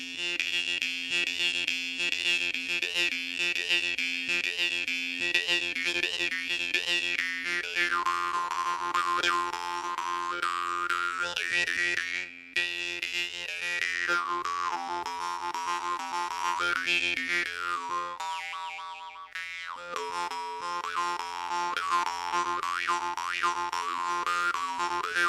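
A Vashkovych drymba, a Ukrainian jaw harp, plays a sustained twangy melody with shifting overtones, close and clear for about 25 seconds with only a brief break, no voices.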